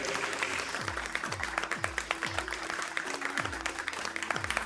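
Sustained audience applause fills a folk singing festival hall as a guest is welcomed with a bouquet: dense, steady clapping at moderate level with a run of low thuds underneath, and no voices standing out.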